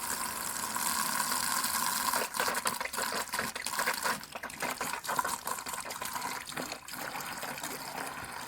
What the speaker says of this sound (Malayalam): ഇനി ഇതിൽ വെള്ളം ഒഴിക്കാം.